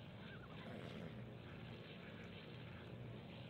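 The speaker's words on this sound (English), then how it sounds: "Can hear an airplane." A propeller airplane drones steadily overhead in a survival video game, a continuous broadband engine rumble holding at an even level throughout without any talk.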